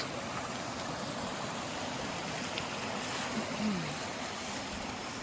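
Continuous rushing of Cripple Creek on the Appalachian Trail, a steady broad wash of flowing water with no talking.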